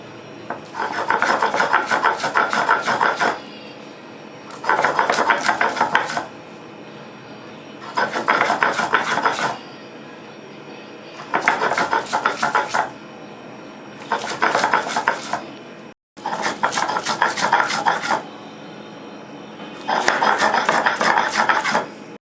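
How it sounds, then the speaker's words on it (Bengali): Chana dal and green chillies being ground on a grinding stone, seven loud bursts of rhythmic rasping and scraping, each a couple of seconds long and separated by short pauses, close up with no voices. "ডাল আর লঙ্কা একসঙ্গে বেটে নিয়েছি"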